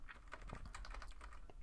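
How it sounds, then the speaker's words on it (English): Computer keyboard keys tapped in a quick run of light, close clicks at an uneven pace, with no talk over them. "I can press the right arrow key on my keyboard"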